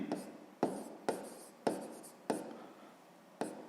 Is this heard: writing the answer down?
yes